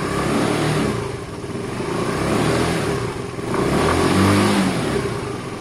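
A Sinnis Harrier 125 motorcycle, fitted with a new carburettor, runs close up with a steady, loud engine note that swells and rises slightly as it revs, with no talk over it.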